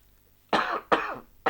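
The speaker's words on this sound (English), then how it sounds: "coughing in the microphone" Three sharp, loud coughs land close into a microphone, spaced a few tenths of a second apart, against a quiet background.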